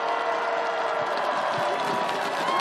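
A crowd at an election rally in Incheon applauds and cheers, a dense continuous wash of clapping and voices that stays loud throughout, mixed with a faint mechanical clicking.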